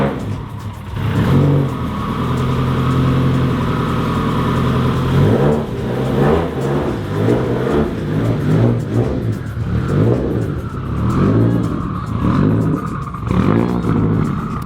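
A car engine with an aftermarket diffuser fitted revs loudly as the car is pulled out of a garage, rising and falling in repeated bursts of throttle over a rumbling idle, close and strong, with no voices.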